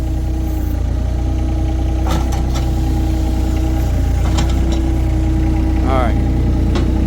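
A Wacker Neuson SM100 mini skid steer engine idles with a loud, steady low drone, and a few faint clicks and squeaks come through over it.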